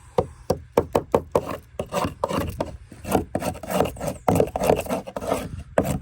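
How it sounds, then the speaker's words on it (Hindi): Hand tools scrape old, peeling paint off wood in sharp, rasping strokes, first as separate close scrapes and then in faster, overlapping bursts. "बाकी सारे को ऐसे स्क्रैप करके देन मैं इसको ब्रश करूँगा"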